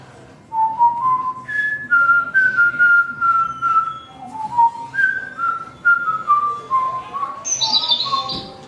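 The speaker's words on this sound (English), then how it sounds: "I'll whistle the tune to you" A person whistles a Disney theme tune at a quiz contest, a clear melodic line of sustained and gliding notes carried for several phrases, close and fairly loud, with a brief rustle at the end.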